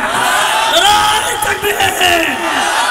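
A crowd at a Bangladeshi religious gathering shouts takbir together, a loud massed chant of voices that swells and recedes over a few seconds.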